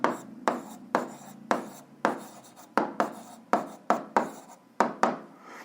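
A pen scratches across paper in about a dozen quick, separate strokes, each a short rasp with a sharp start. The strokes come in an uneven rhythm, close up and alone, as a solution check is written out for an algebra exercise.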